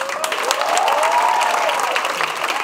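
Audience applause at a Balinese Calonarang performance, a dense, loud, continuous patter of clapping from a large crowd, with a voice rising and falling over it.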